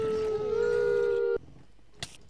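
Wolves in a modded Minecraft-style video game give one sustained, steady howl, loud and alone for over a second before it cuts off abruptly, followed by a brief faint noise.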